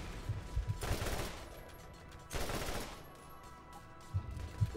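A futuristic Annihilator weapon firing in a Borderlands shooter game, faint rapid bursts of gunfire in two longer volleys with scattered low thumps in between.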